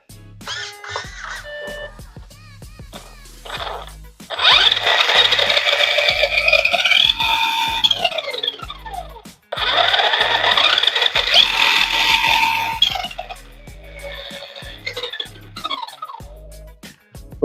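A small brushless electric motor in an RC car whines in high-pitched bursts, rising and falling as it revs, with clicks and buzzing between two long loud runs.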